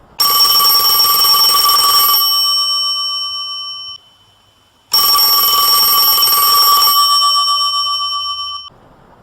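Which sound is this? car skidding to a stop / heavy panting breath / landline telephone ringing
landline telephone ringing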